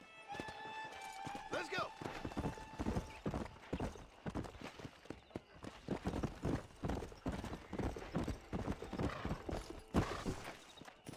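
Horse hooves clip-clop at a steady trot in the Western video game Red Dead Redemption, rhythmic and fairly close, with a whinny near the start and someone talking over them.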